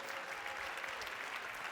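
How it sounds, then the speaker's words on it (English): An audience at a creativity forum claps steadily as a band is welcomed on stage, a continuous wash of hands heard at moderate distance and fairly soft. "Big round of applause."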